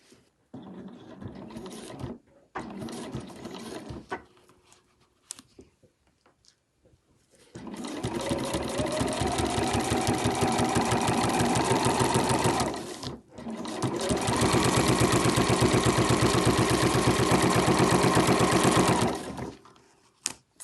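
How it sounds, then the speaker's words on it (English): A sewing machine stitching Velcro in place runs in short bursts, then in two long steady stretches of rapid stitching, close and loud, with no talking. "go over to our sewing machine and sew that in place with 2 rows of stitching"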